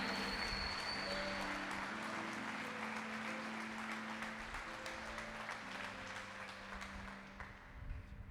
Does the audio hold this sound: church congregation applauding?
yes